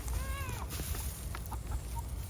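Chickens cluck and call in a backyard garden with Bermuda grass creeping into the walkways, several short bird calls repeating near the listener over a steady outdoor background.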